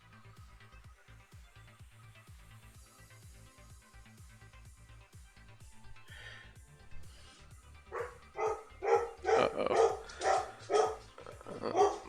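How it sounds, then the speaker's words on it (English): Several dogs bark in bursts that start faint and swell into loud, close barking in the second half, with a brief spoken exclamation early on. "Dogs are freaking out."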